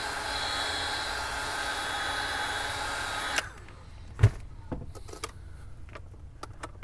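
A heat gun warms the screen of an iPhone 11 Pro Max during a repair, giving a steady loud blowing hiss for about three and a half seconds before it cuts off, followed by a few light handling knocks.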